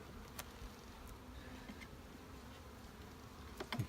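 Honeybees buzz around an open hive during an inspection, a soft, steady drone of many wings close by, with occasional louder passes of individual bees near the microphone and faint handling noises.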